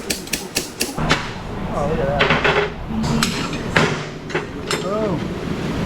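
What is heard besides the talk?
slide hammer pulling a car part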